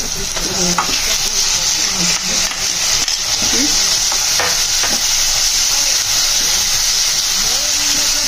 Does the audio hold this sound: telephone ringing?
no